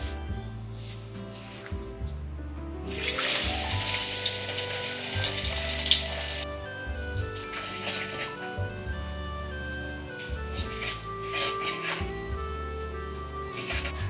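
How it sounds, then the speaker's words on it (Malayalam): Garlic frying in sesame oil in a home kitchen sizzles steadily and close, with a louder crackling surge early on as ingredients hit the hot oil, and faint stirring throughout. "നല്ലെണ്ണത്തേക്ക് ഇടാൻ പോകണം കേട്ടോ ഇതേ നമ്മൾ വെളുത്തുള്ളി ഇടാൻ പോവാണേ"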